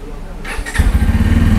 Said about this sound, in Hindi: तो ये बाइक हमारी स्टार्ट हो गई है